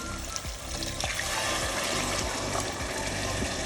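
About one and a half cups of water pour into a pot of partly cooked meat for saloni biryani, a close, steady gurgling splash that keeps flowing for several seconds.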